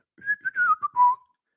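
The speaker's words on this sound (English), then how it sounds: "Quality whistle." A person whistles a short melodic phrase of a few notes sliding downward, clear and close against silence, lasting about a second.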